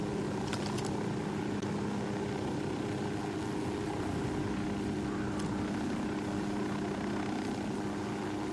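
Helicopter in the video game Ghost Recon Wildlands, a steady droning rotor and engine hum held at an even level, with faint scattered clicks on top.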